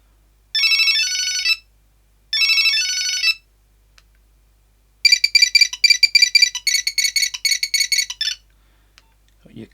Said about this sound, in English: Got your classic Nokia tune.